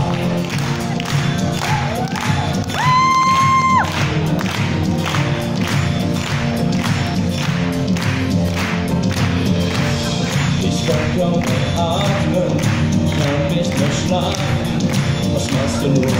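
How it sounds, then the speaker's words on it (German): Audience at a German Schlager concert premiere clapping along in steady rhythm to the beat, rhythmic claps running throughout under loud music with singing. "beim Schlager können wir alle auf alle Takte klatschen"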